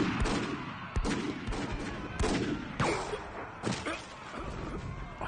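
Battle gunfire in an anime film, a dense barrage of shots and blasts with sharp cracks standing out of a loud, continuous roar of fighting.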